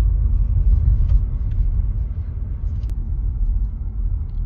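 A small car's engine pulling uphill on a test drive, heard from inside as a steady, loud low rumble with slight swells and no voices.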